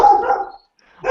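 A single loud, close dog bark that rings out and trails off into silence, followed by the start of another sound at the very end.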